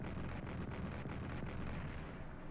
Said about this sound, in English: Now the artillery attack on Metz.